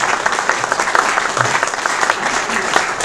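Audience applause at a lecture on the Atlantic Ocean and climate, dense even clapping from a crowd, steady and moderately loud throughout.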